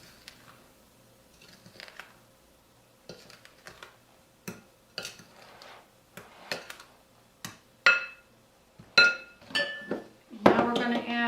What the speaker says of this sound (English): I'm going to give that a quick stir just to combine the two.